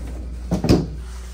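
A single pull-out freezer drawer in a 2024 Renegade Classic 45CMR motorhome slides open with a soft rolling rumble and a muted thump, close and brief, in an otherwise quiet room.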